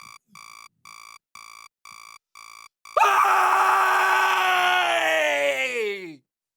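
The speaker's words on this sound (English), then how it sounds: "when I wake up in the morning, I have a habit of screaming before I do anything else." After six evenly spaced alarm beeps, a person lets out one long, loud morning scream lasting about three seconds before it cuts off.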